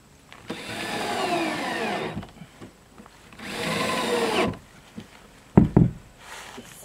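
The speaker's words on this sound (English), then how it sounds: "Get these last two screws in the bottom hinge." A power drill drives screws into the bottom hinge of a door on a DIY composting outhouse, with two sustained whirring bursts, each a second or so long, followed by a few sharp knocks and clunks, recorded close up.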